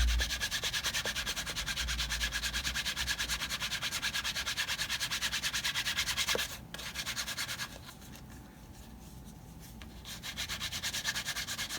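Waxed leather edges of a guitar strap are rubbed briskly by hand in a steady, continuous dry rubbing that eases off and softens for a few seconds near the end, then picks back up. No one speaks.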